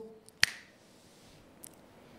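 A single sharp finger snap rings out alone early on, followed by a faint, brief echo of it a moment later in a quiet room.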